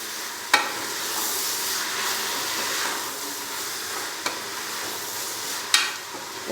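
Whole red chillies and finely chopped tomatoes are stirred and fried in a pot for a beef onion curry, giving a steady sizzle with a few sharp spoon scrapes and knocks, and no talk.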